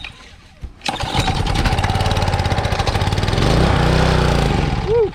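A Honda Excell pressure washer's small gasoline engine cranks with a sharp pull, catches and starts, then settles into a loud, steady rhythmic chugging idle that continues to the end.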